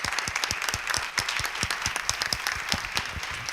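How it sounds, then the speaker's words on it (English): Audience at a local arts event with dancers and an author applauding, a dense, steady patter of many hands clapping that holds at an even level throughout, with no voices standing out. "let's have a round of applause for everybody"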